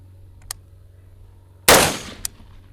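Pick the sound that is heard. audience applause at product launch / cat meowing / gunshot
gunshot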